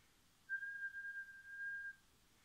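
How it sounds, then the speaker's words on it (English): A single clean, steady whistle-like pure tone holds at one pitch for about a second and a half against near silence. "I call these pure tones or sine waves"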